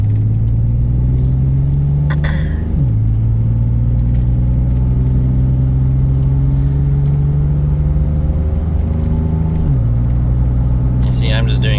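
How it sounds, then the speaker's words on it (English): Car engine pulling away moderately from a traffic light, its steady low drone rising and shifting pitch through gear changes, loud and close throughout. "This motor right here is keeping up just fine with traffic, taking off from the traffic light."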